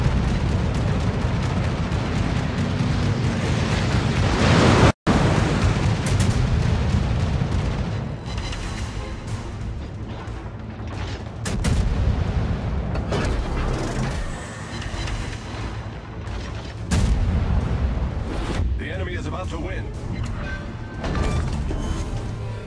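Anti-aircraft gunfire in a naval gunboat video game, a sustained dense roar of rapid booming shots with one sharp cut near the start, loud and continuous with fluctuating intensity, no voices.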